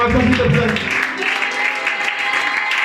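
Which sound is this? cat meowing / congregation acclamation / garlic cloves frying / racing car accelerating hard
congregation acclamation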